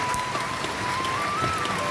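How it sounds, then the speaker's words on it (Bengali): Steady rain falling on surfaces, an even hiss of many drops with a faint tonal hum running underneath. "দেখেছো কেমন বৃষ্টি হচ্ছে"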